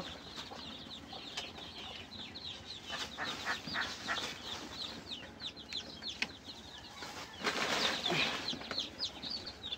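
Fayoumi chickens on a small farm cluck and flap their wings during vaccination, with scattered nearby clucks and rustles and a louder burst of flapping toward the end.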